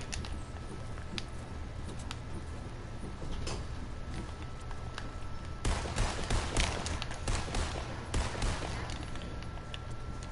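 Gunfire in a video game sounds as scattered sharp cracks over a rumbling background, becoming a denser burst of rapid shots in the second half, fairly loud.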